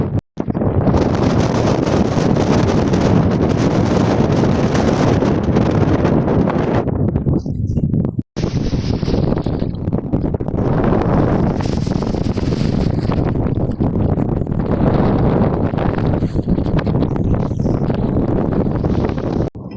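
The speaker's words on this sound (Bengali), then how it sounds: "দেখতে পারায় এমন বালির তুফান আইছে" Desert sandstorm wind in a desert city roars loud and close as heavy, continuous gusting buffets the microphone, broken by a brief dropout and swelling again, with no talk.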